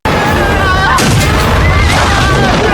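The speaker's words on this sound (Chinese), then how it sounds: "一场爆炸随即席卷小木屋" A loud, deep explosion boom as gasoline ignites in a small wooden cabin rumbles throughout, with a sharper blast burst near the start and a low roar sustained beneath faint voices.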